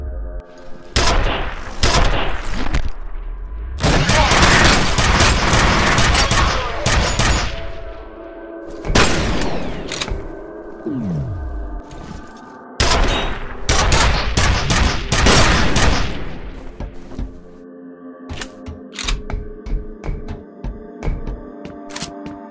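Loud, close gunfire from a railgun-like weapon in the shooter game F.E.A.R.: long sustained bursts and heavy blasts in several waves with short pauses between, then scattered lighter shots toward the end, no speech.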